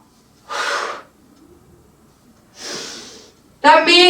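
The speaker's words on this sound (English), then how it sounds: "Exhale, inhale. And again, exhale, inhale." Breath sounds during a basic workout: two loud, airy breaths about two seconds apart, close to the microphone, followed by a short voiced burst at the end.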